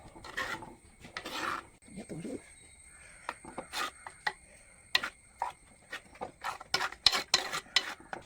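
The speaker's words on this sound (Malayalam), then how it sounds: "ലാസ്റ്റ് ഒരു കാൽഭാഗം ഉലുവാപ്പൊടി ചേർത്ത് കൊടുക്കുക ഉലുവാപ്പൊടിയാണ് നന്നായിട്ടൊന്ന് ഇളക്കി കൊടുക്കുക" Spoon stirs fenugreek powder into a pot of kaalan curry made with ripe plantain, giving soft intermittent scraping and clinking strokes, close and quiet.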